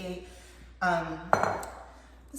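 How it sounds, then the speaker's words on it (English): A spoon clinks against an old inherited Pyrex glass baking pan while crust mixture is scooped in, two or three sharp glassy taps over a quiet background, with a voice speaking alongside. "we're gonna go ahead and spoon all of our crust matter into the pan here"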